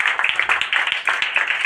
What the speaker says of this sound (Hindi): चलिए ताली मार दीजिए इनके लिए